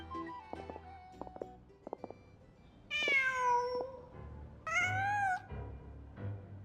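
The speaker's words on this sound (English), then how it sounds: "Just a cat." A cat meows in Genshin Impact, two drawn-out, wavering cries close up, preceded by soft clicks and faint rustling, with a quieter mew trailing at the end.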